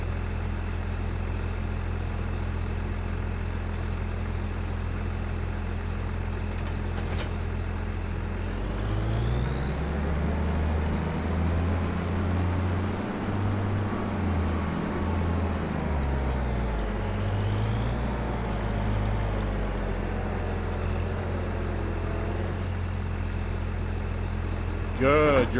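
A combine harvester engine in Farming Simulator 25 drones low and steady throughout while driving, with a rising and falling engine note in the middle section and a voice talking over it.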